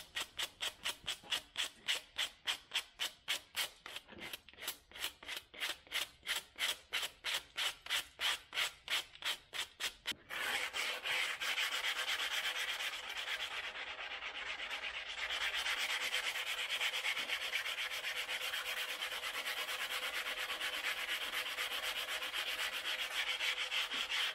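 A hand polishing pad rubs back and forth over a concrete hearth, giving rapid rhythmic scraping strokes that give way to a continuous steady grinding rasp, close and fairly quiet.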